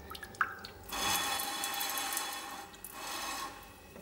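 Bidet jet sprayer beside a toilet in a house bathroom, a click followed by a hissing spray of water in two bursts separated by a short pause, close and moderately loud.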